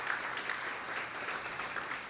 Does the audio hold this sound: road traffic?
no